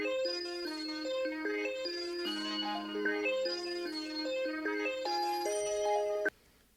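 A bright, happy synth melody layer built in Serum within FL Studio plays alone, stepping through bell-like sustained notes with a cheerful rising and falling line before cutting off abruptly.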